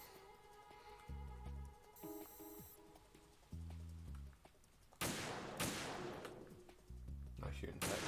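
Bursts of gunfire in the video game Metal Gear Solid 2 crack out in several separate volleys, sharp, loud and close, with game tones and effects between the shots.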